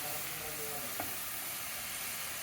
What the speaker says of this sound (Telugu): ఉల్లిపాయలు, పచ్చిమిరపకాయలు వేయించుకొని